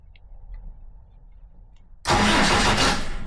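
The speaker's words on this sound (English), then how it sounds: "I pulled the wire off for the starter motor, hooked it up to an extendo wire, and when I touch that to a 12-volt feed" A Nissan Micra's starter motor cranks the engine, switched on by a 12-volt feed run through an extension wire: a quiet lead-in, then a loud, dense mechanical churn that starts abruptly and continues steadily to the end.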